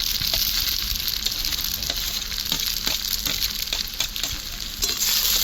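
Restaurant-style mixed chowmein is tossed with fried prawns, meat and egg in a loud, continuous sizzle, with frequent close spatula scrapes and clinks over the hiss.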